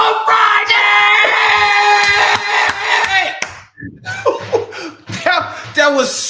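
A Final Four Friday crowd yelling and cheering loudly with scattered clapping and laughter, a dense roar that fades briefly before more shouts and voices break through.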